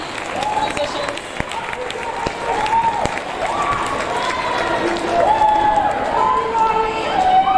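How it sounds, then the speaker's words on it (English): An audience applauds 8th grade students at an awards ceremony, a broad wash of clapping and crowd noise that swells toward the end, with voices talking over it throughout. "Give these students a round of applause."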